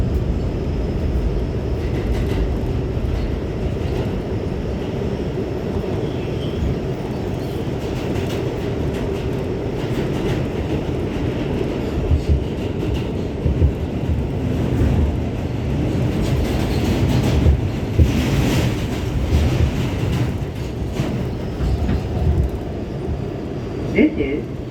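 A New York subway A train runs between 14th Street and 42nd Street, giving a steady, close rumble and rattle from on board, with swelling wheel and track noise and occasional voices nearby.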